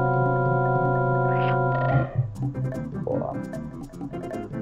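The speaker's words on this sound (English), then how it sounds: "That's a frog burp if I've ever seen one." Frog burp in a Yoshi video game: a long, loud, deep droning croak with strong buzzing tone, collapsing into a burst of lower gurgling, sputtering croaks.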